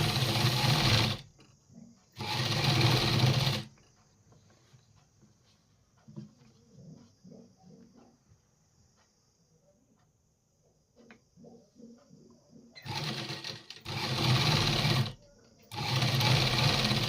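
Electric sewing machine stitching suits with small stones, loud rapid whirring bursts at start and end separated by a quiet stretch of faint handling noises when the machine stops running.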